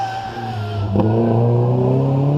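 A Porsche Cayman S 3.4 litre race car idles loudly at the start line of a hillclimb, its engine note steady with a brief blip of revs partway through, alone without talk.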